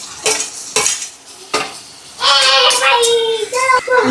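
Tomatoes drop into browned onions in a pan with a couple of soft plops, then a spoon stirs and scrapes while the mix begins to sizzle, close and fairly loud.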